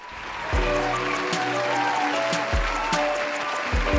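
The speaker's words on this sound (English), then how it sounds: "Cue those applause for me." Canned applause sound effect opens a horror podcast, a dense steady crowd clapping throughout with a low musical drone underneath.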